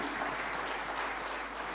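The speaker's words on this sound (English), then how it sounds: "A big round of applause for the wonderful" An audience at a media summit applauds the moderator and panelists, a short, even patter of clapping at moderate distance.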